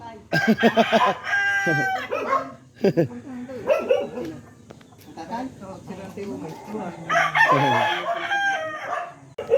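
A rooster crows amid clucking chickens in backyard coops in Calatagan, Philippines, with a dog barking and people talking nearby in an outdoor setting.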